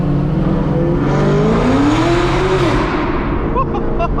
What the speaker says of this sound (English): So this car has full headers and exhaust, way louder than my car